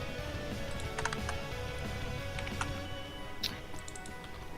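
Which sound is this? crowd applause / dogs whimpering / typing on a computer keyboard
typing on a computer keyboard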